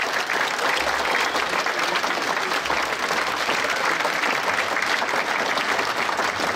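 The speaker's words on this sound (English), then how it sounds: "Can I ask for one more round of applause for our performers today?" Sustained applause from a school assembly audience for performers at a Tsagaan Sar celebration, a steady dense patter of clapping filling the room from start to finish at an even level.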